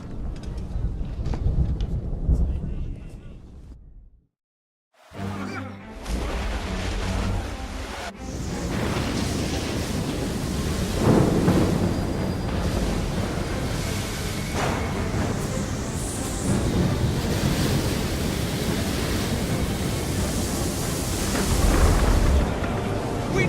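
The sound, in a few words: storm at sea in Assassin's Creed III video game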